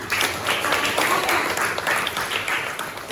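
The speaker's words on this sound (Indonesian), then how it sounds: "Luar biasa, tepuk tangan." A classroom group claps together in a steady, even burst of applause, with voices faintly mixed into the clapping.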